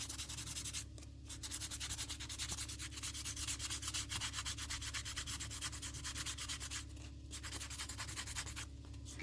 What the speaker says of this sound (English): You want to spend your most time on this 400 grit to make sure the shape is perfect.